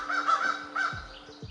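A crow caws twice, close and clear, with harsh rasping calls spaced a moment apart, followed by a few faint soft sounds.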